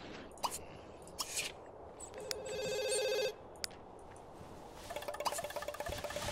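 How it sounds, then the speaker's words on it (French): A landline phone rings in The Sims 2, with a bright electronic trill repeating in two bursts separated by a pause, moderately loud among soft game clicks and ambient tones. "C'est visiblement pas moi qu'on appelle, sinon ça serait mon portable qui sonnerait. Va répondre à tout hasard."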